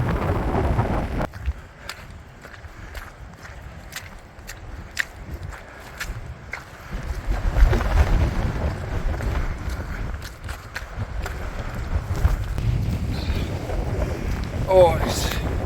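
Strong wind buffets the microphone on open Saddleworth Moor, a steady low roar that swells and gusts throughout, with light footsteps and rustling mixed in.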